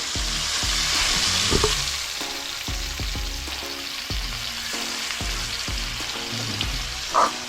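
Broth poured into a sizzling frying pan, giving a steady, loud sizzle with repeated stirring clatter and a brief sharp clink near the end.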